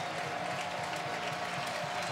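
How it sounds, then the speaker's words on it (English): Crowd at a college football game between NC State and Virginia cheers on the home defense before a third-and-inches play, a steady roar of many voices filling the stadium from start to finish, with no clear talk on top. "And the crowd cheers on its defense."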